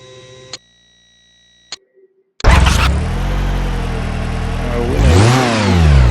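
A car engine with a P0132 oxygen sensor fault, after repair work, fires up after a few faint ticks and beeps, then runs loudly and steadily close by, swelling once into a brief rev.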